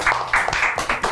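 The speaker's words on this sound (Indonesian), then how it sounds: "Tepuk tangan semuanya." Audience applause greeting an off-road rally driver arriving on a studio talk show: a short burst of several distinct, fairly close claps with a slightly uneven rhythm.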